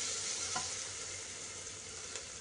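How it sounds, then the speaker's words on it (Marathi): Green chilies frying with onion and tomato in a pan, a continuous bright hiss of sizzling oil with a faint clink or two, steady and close, no voices. "कांदा टोमॅटो चांगला भाजल्यानंतर त्यात हिरवी मिरची घालायची आहे."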